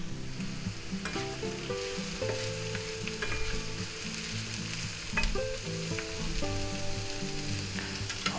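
Celery and other vegetables fry in a pan, a steady close sizzle with stirring and scraping clatter throughout, no one talking.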